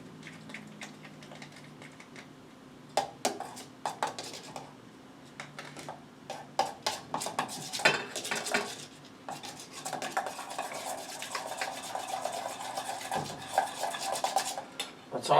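Meatball mix for pork meatballs being worked together in a bowl, giving scattered clinks, scrapes and rubbing knocks of utensil against dish, irregular and close, with busier clatter in the second half and no talk.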